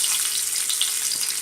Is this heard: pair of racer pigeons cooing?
no